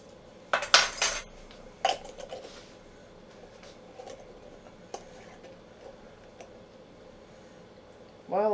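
A molasses mixture with baking soda is stirred in a bowl for a shoo-fly pie, with a few sharp utensil clinks against the bowl early on, then quiet scraping; a voice briefly begins at the end.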